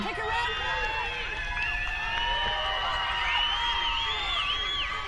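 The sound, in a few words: rugby stadium crowd chanting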